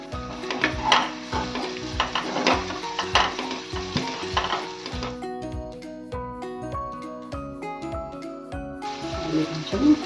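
Onions and mint fry in oil in a pan for a country chicken curry, giving a steady close sizzle broken by frequent stirring scrapes and clinks of a spoon against the pot.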